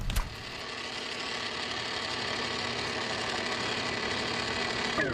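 An ice cream machine churns a batch toward soft-serve consistency, giving a steady, close mechanical whirring hum with a faint rhythmic grind that runs continuously, with no voices.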